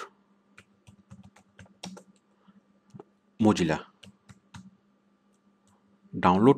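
Light clicks from a computer keyboard being typed on tap out in short scattered runs, with a voice talking in between.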